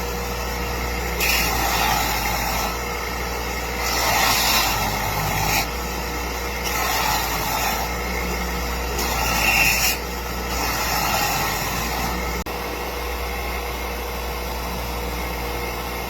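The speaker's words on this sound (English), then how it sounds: "put it on the belt sander, and rotate my hand as I draw it across the sandpaper" A belt sander runs with a steady hum and hiss as a reclaimed-wood arrow end is drawn and rotated across the belt, giving several louder grinding swells of a few seconds each.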